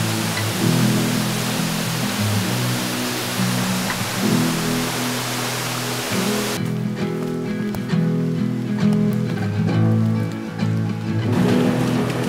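Holmes Chapel waterfall in Bankhead National Forest pours in a steady, loud, broadband rush close by, with a brief shift in tone midway and no voices.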